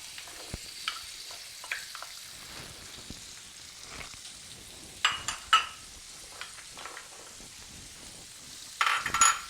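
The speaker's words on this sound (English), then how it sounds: "see how that's simmering? You put your onions and peppers in there." Onions, peppers and garlic sizzling in a pan on the stove for homemade Alfredo sauce: a steady, fairly quiet frying hiss with scattered crackles and pops, alone without talk.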